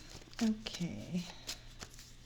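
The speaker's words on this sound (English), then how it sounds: "I'm inclined to pull some cards now." Tarot cards being shuffled by hand, a few quick papery riffles and slaps heard close up beneath a speaking voice.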